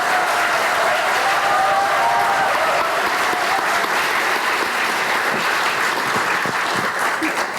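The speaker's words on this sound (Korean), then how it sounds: "큰 박수로 맞아주시기 바랍니다." Audience applause at an anniversary ceremony for the 4.27 Panmunjom Declaration, a dense, loud, sustained clapping from a large crowd that continues steadily throughout.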